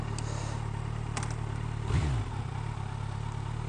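A motorcycle is ridden, its engine humming steadily and close beneath wind rush, with a brief rise in revs midway.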